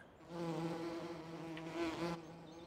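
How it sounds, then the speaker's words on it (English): A swarm of bees in Farming Simulator 17 gives a quiet, continuous buzzing drone, faint and unbroken for a couple of seconds with no talk over it. "Our bees are doing pretty good."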